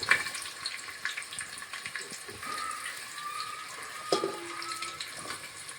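Green chillies sizzle steadily in hot oil for veg biryani, a continuous loud frying hiss with a few sharper crackles.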